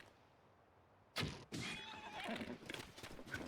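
In The Legend of Zelda: Breath of the Wild, a horse gives a sudden loud whinny after a quiet start, followed by hoof clip-clops and game noise that carry on to the end.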